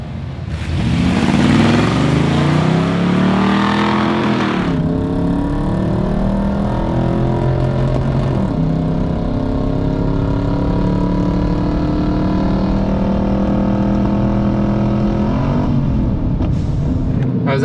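A 2026 Ford Maverick pickup accelerates hard on a quarter-mile drag strip run with traction control on. The loud engine rises in pitch through several gear changes and holds a sustained roar throughout.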